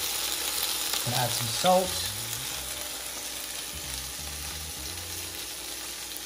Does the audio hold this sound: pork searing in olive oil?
yes